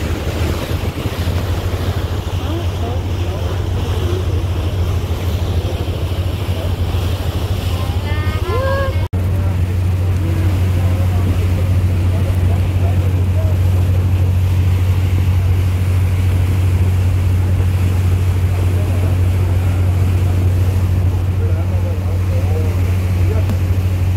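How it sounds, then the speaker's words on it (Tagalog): Big sea waves wash around a ferry under way, a continuous heavy rushing roar of water and wind with a low steady engine drone beneath, loud and unbroken throughout. "Grabe yung alon lang po"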